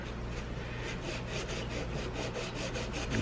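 Steady, close scratching of 400-grit sandpaper worked over a 1911 pistol part, an ATI Titan hammer or sear, with a continuous gritty rasp and faint rhythmic strokes under a low background hum. No voices.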